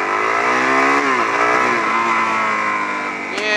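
An engine revving steadily at high pitch as the vehicle drives, tones rising and dipping with throttle changes, close and loud, ending with a brief sharp crack like a backfire.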